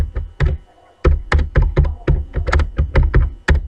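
Typing on a computer keyboard: a steady run of sharp, close key clicks and thunks in an uneven rhythm, with a brief pause near the start, no voices.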